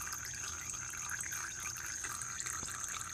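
Fluid trickles steadily out of a blown Briggs engine on a John Deere LA105 lawn tractor, a continuous close-up gurgling drain with no pauses and no talk.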